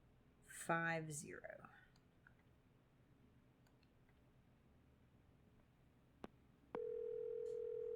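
A telephone in the Silent Hill 4 video game: a brief burst of electronic tones and clicks, a single sharp click, then a steady sustained ringing or dial tone that carries to the end, quiet and without voices.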